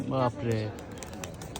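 Pigeons, among them a green dobaj high-flying male, give two short throaty coos close by, and a person's brief exclamation follows.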